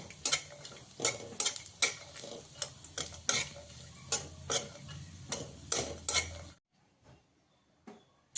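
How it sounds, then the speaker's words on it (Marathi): Grated coconut roasting in ghee in a pan for ukadiche modak, with a spatula scraping and tapping in repeated sharp strokes over a faint sizzle, then stopping near the end. "त्याच्यावर आपण खोबरं चांगलं भाजून घेऊया"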